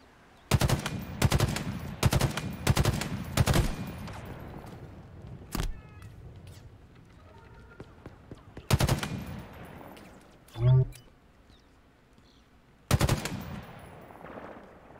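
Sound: gunfire from Halo Infinite video game

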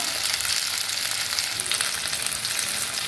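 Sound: chillies frying in oil

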